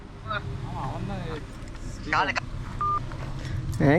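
Several short telephone dialing tones beep over background chatter and engine hum, with voices talking throughout.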